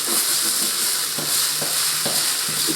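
Guanciale fries steadily in a pan for carbonara, giving a loud, constant sizzle with a few soft stirring knocks spaced through it and no talk.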